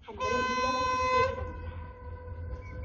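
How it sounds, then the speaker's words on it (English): A cement freight train on the Jungang Line rolls into Hwabon station in Korea, a loud sustained horn-like harmonic tone sounding for about a second over steady low rumble, then a quieter continuing drone as it arrives. "The train is now approaching."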